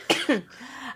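Two quick, sharp coughs in succession, close up, followed by a brief breathy trailing sound.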